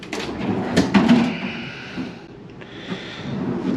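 The double freezer drawer of a house-size fridge in a 2021 Cedar Creek Champagne fifth wheel RV slides open with a soft rolling rumble and a couple of light knocks, close by and fairly quiet.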